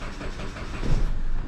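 A 2007 Chrysler Sebring cranks and catches, its engine noise rising slightly near the end of a brief, steady low-pitched rumble.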